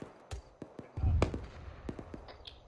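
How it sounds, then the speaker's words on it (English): Gunfire during a military field training exercise: a scattered series of sharp cracks and pops at irregular intervals, a few louder near shots among fainter distant ones, over quiet outdoor background. "Can someone find where we're getting shot at?"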